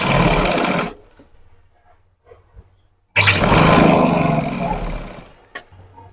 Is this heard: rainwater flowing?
no